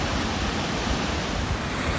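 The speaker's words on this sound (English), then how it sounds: "There are so many waterfalls here." A loud, steady roar of rushing water from a waterfall in Croatia, continuous and unbroken, filling the whole stretch.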